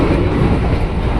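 Steady low rumble and rattle of an empty KRL commuter train carriage in Indonesia in motion, loud and close, with no talking.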